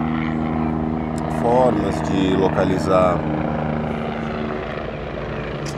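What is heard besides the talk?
helicopter flying overhead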